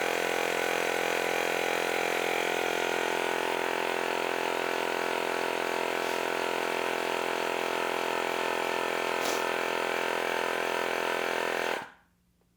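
An AirMoto handheld portable tire inflator pump runs with a steady, loud mechanical drone and buzz while filling a car tire, holding constant for about twelve seconds before cutting off abruptly into silence.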